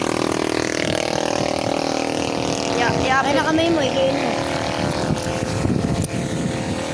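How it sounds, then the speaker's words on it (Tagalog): Tricycle engine drones loudly nearby during a road trip, a rough steady rumble continuing under people talking, with a brief whine in the middle. "ang ingay ng tricycle"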